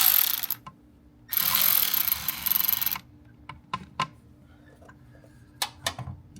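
Hose clamps being snugged on an intercooler hose during an intercooler install, two stretches of rapid ratcheting followed by scattered sharp clicks and taps close up.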